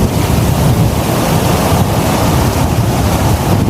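Large sea waves surge and break continuously on a beach shoreline, a loud, steady roar of surf with wind buffeting the microphone throughout, no voices.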